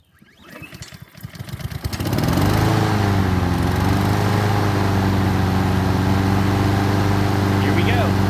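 A Honda HRN216VKA lawn mower engine is pull-started: a few rapid rising cranking chugs, then it catches and settles into a loud, steady running drone close by.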